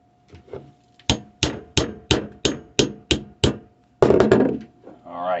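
Hammer tapping on an extractor during an extractor change: eight sharp metallic knocks in a steady rhythm, close and loud, followed by a brief scraping clatter and someone speaking at the end.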